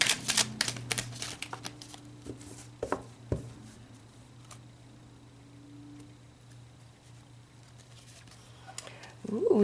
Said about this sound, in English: let's pull a card for overall energy for your week